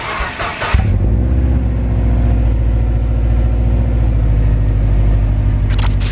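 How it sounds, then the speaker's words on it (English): A cold Subaru WRX engine fires up after a brief crank, then settles into a loud, steady, throaty high idle with a deep low rumble that holds close and constant to the end, without any talking. "I'm gonna give you guys a little quick cold start"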